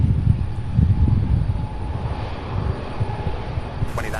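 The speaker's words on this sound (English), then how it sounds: "we've got UPS 2195 getting ready to land in an MD-11" A UPS MD-11 cargo jet on approach to land at Louisville's SDF airport gives a steady, moderately loud engine roar that swells and fades slightly, heard from the ground with no talk.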